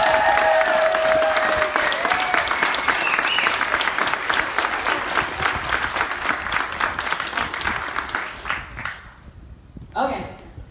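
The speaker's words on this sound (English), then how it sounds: "So I would like to just give them a big round of applause." A crowd aboard a cruise gives a big round of applause for the helpers, dense clapping that starts loud and gradually thins and fades before a voice speaks near the end.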